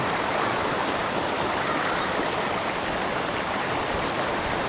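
The Dumaka River rushes steadily in the Philippines, a constant broadband roar of flowing current, close and loud with no voices.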